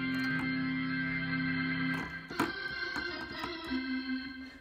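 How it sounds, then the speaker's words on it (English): Electric organ played through a home music setup with distortion added, a sustained buzzing chord that breaks into choppier, gritty notes midway, loud and alone. "And add some distortion to it."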